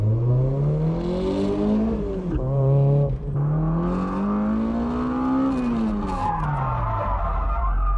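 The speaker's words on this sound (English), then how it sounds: "I'm pulling the e-brake too long, letting the car slide too much." A BMW engine revs loudly and steadily as tires skid and slide through an e-brake drift, continuous for several seconds with no voices.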